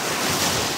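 Strong ocean surf at a shallow beach fills the whole brief moment with loud, continuous wave wash mixed with wind rumbling on the microphone.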